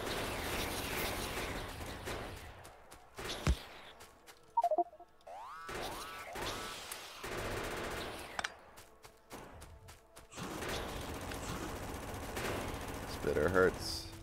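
Automatic gun turrets firing at alien creatures in the Factorio game: repeated sharp bursts of rapid gunfire in clusters separated by brief gaps, with other game effects between.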